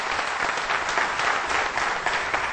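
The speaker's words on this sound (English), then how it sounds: "give a huge round of applause for the audience who's here" Steady, dense applause from a large college audience at a televised campus show, many hands clapping together at an even level throughout.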